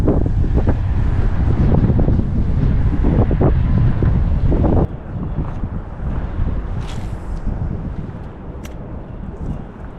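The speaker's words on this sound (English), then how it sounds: "Just wind, wind, wind every single day." Strong wind gusting across the mic beside a river during early spring fishing, a loud continuous roar and buffeting that drops slightly partway through, then carries on steadily with no voices.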